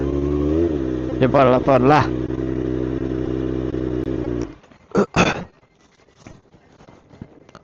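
A motorcycle idles steadily up close while a voice talks over it, then the engine cuts off as the bike is parked, followed by a few clatters and quiet talk.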